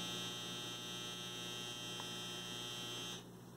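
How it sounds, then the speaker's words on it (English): A household clothes dryer buzzer sounds indoors as a steady electronic drone for about three seconds, then cuts off abruptly, leaving faint room hum. "My dryer just buzzed, I'm sorry."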